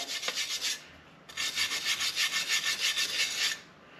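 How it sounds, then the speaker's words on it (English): A wire brush scrubs rust off metal with a harsh, close rasping scrape, one short burst, a pause, then a longer steady run of back-and-forth strokes before it stops. "Now if you look as I'm wire brushing this, you can see more coming off here."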